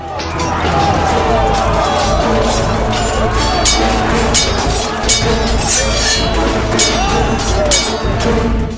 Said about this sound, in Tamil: வேலோடு வேல் உரசும் ஒலி.